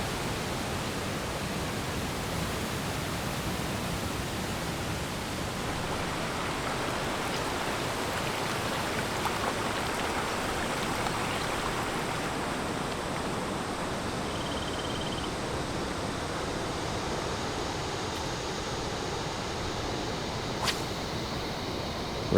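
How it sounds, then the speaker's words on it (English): Rainbow Falls on a white-water river in Australia gives a steady, broad rushing roar of falling water that holds evenly throughout, with no voices. "we eventually made it to Rainbow Falls"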